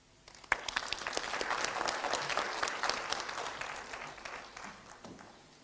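An audience claps for a Kenyan politician after his speech at a formal event. A sharp first clap swells into a full burst of applause, holds for a few seconds, then gradually thins and fades.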